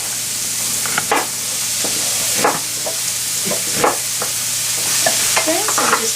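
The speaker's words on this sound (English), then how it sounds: "I'm gonna use a wooden spoon in my skillet, not to scratch it. Just push it." A wooden spoon pushes food around a sizzling skillet in a vegan cooking class, with repeated scraping strokes over a constant frying hiss. There is no talk.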